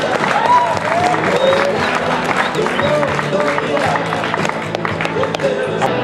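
A crowd at a cycling prize-giving in Canals applauds a winner, a loud, continuous burst of clapping with scattered cheers and voices mixed in.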